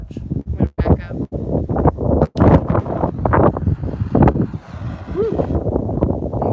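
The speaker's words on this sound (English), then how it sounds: "I know it's still windy." Strong outdoor wind buffets the microphone in gusty, uneven roars, with scattered knocks and rustling mixed in.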